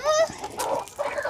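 Hens cluck close by in a few short, throaty bursts separated by brief gaps.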